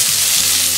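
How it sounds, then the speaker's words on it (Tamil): Onions fry in hot oil in a pan for a drumstick leaves poriyal, making a brief, steady, close sizzling hiss with no pauses. "வெங்காயமும் ஆட் பண்ணிக்கலாம்."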